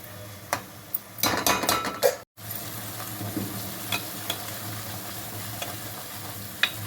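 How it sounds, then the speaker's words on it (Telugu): Ground masala paste fries in oil for a cashew chicken curry, making a low steady sizzle. A burst of stirring and utensil scrapes comes early, with a few faint clicks after it, heard close up without speech. "ఆయిల్లో మంచిగా ఫ్రై చేసుకోవాలండి పచ్చి వాసన పోయే వరకు ఫ్రై చేయాలి"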